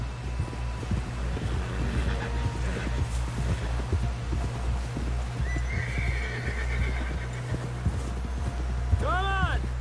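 Horse hooves clip-clop steadily through a ride in the open-world game Red Dead Redemption 2, mixed with whinnies, background music and voices talking over the hoofbeats.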